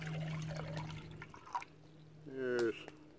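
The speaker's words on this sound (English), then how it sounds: "Let's put some water in the cup." Water poured into a cup for making cowboy coffee, a short liquid pouring gurgle that rises briefly near the end after quiet handling sounds.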